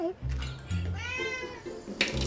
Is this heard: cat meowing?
yes